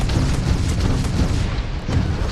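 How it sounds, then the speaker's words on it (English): Heavy laser weapon fire in the space game Starfield comes as a dense, loud, booming roar with a thick low end, sustained across the moment with a brief dip before surging again. "the laser weapons on this just feel fucking chunky as hell"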